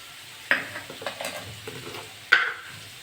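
Bitter gourd and potato fry in a pan with a quiet, continuous sizzle, broken by two sharp metallic scrapes and some softer clinks as the pieces are stirred.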